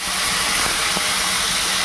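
Boal fish frying in hot oil inside a covered pan, cooked with coriander, gives a loud, steady, close sizzling hiss that holds evenly throughout, with faint crackles and no talking.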